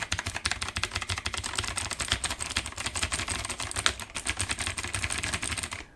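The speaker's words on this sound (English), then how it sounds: "there is the noise of the keyboard. So that is what it sounds like." Rapid, continuous typing on a Marvo KG947 mechanical keyboard with clicky blue switches, dense sharp clacks close to the microphone and without voices, stopping abruptly at the end.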